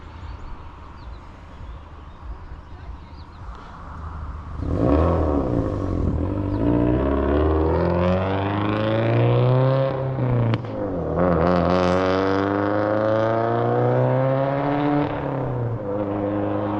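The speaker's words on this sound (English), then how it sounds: "This area is kind of filled with traffic." Road traffic passes near a fishing spot beside a pond, a steady car engine rumble that swells and rises in pitch as vehicles go by close, continuous through the clip with no talk.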